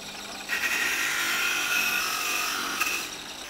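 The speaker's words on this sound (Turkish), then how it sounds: "Tellememizin yetmediği yerlere şarjlı matkapla temizlik gerçekleştiriyoruz." A cordless drill fitted with a cleaning attachment scrubs engine parts of an Opel Astra 1.6 up close, giving a steady high-pitched whirring grind for about two and a half seconds, with no talking.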